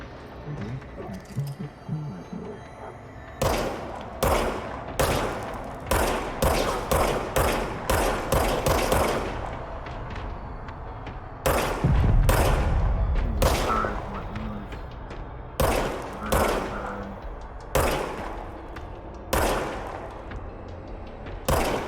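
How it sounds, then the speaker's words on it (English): Video-game gunfire: a quiet stretch, then repeated loud bursts of sharp shots in quick clusters, with short pauses between volleys until the end. "now I have a gun."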